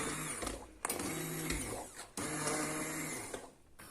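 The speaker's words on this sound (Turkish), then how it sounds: "Şöyle Mikserimizle güzelce çekiyoruz. Pürüzsüz bir kıvam alana kadar." A handheld immersion blender purees softened orange peels and pulp for homemade marmalade, a close, steady motor whir with brief dips where the blade is lifted or repositioned.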